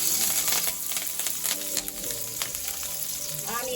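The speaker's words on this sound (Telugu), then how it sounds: "ఇప్పుడైతే జీలకర్ర ఆవాలు వేస్తున్నా 1 స్పూన్." Cumin and mustard seeds sizzle and crackle steadily in a pan of hot oil, a dense continuous frying hiss with scattered sharp pops throughout, close and fairly loud, no voices.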